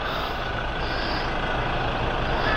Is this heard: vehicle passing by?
yes